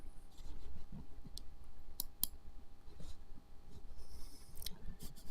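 A computer mouse clicks to open PCVet software: a few sharp, separate clicks, two close together near the middle, over a steady low room hum.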